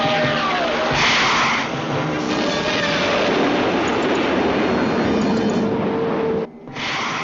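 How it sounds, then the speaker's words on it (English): Jet aircraft roar of a fast delta-winged, high-tailed plane, a loud steady broadband rush that holds throughout and briefly dips near the end. "She's delta-winged, high-tail plane."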